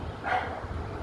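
A single muffled dog bark, fairly faint, against a low background rumble.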